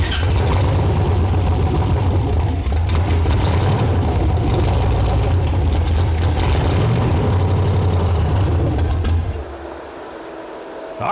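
Junkyard V8, a 6.0 or 5.3, running on a test stand while the throttle is worked, a loud rough engine roar rising and falling for most of the clip before dropping to a quieter idle near the end.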